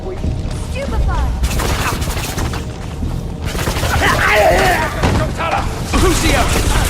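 Stupefy spell effects burst and crackle in a Harry Potter Deathly Hallows video game battle, several loud booming blasts and rattling impacts over a few seconds amid a dramatic voice and chaotic noise.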